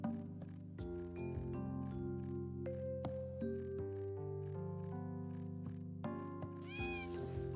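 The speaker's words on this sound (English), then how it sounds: "The cat noise scared me." A cat meows once, a short rising-and-falling cry heard near the end over steady, tonal background music.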